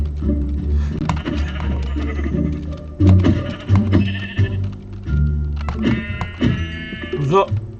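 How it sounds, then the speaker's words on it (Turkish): A sheep bleats in the Minecraft video game, heard amid busy game sounds while people talk excitedly over it. "Kuzu var bir dakika."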